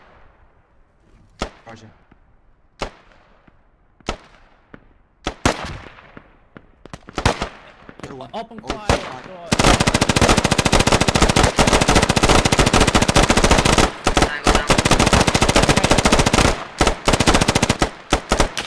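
Rapid automatic gunfire and scattered single shots in a Squad military video game, starting as sparse sharp cracks and then becoming a dense, loud, sustained burst of fire, with brief voice chat over it.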